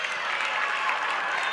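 Steady applause from a crowd at a high school girls' basketball game, a dense wash of clapping that stays even for the whole moment.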